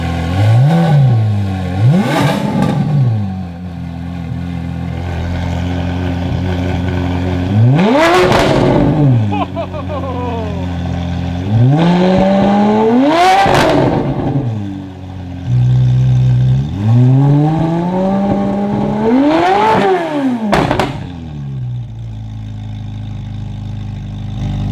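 A Ferrari 458 with a full iPE exhaust and cat delete revs loudly and close up, with several sharp rising blips that fall back to a rumbling idle between them and a few short spoken remarks.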